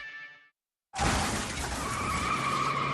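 A car crash effect: a brief tone cuts out, then after a short gap a loud burst of skidding tires and shattering glass erupts and sustains to the end, with no voices.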